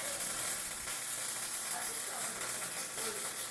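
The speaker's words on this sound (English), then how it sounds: "Oh, she's welding." Arc welding on a rear axle swap for a Bronco gives a steady, bright crackling sizzle that runs without a break, fairly close and continuous, with a faint voice in the background.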